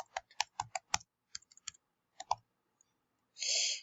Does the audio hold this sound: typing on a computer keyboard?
yes